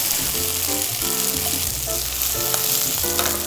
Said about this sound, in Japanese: でこの焼きそば用の麺が表面がカリッとするぐらい焼いていきます